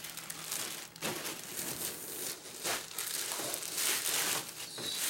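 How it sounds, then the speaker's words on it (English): A plastic bag is handled while an air purifier is unboxed, giving faint, close crinkling and rustling in uneven bursts with brief pauses, and no talk. "plastic bag."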